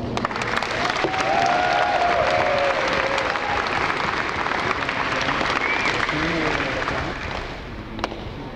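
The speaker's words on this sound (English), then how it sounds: "Let's give him a round of applause." An audience applauds a new first-year McMaster University men's basketball player at a media day, a steady, full round of clapping lasting several seconds with voices and cheers rising over it before it thins out.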